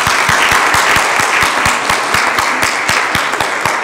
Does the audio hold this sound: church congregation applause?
yes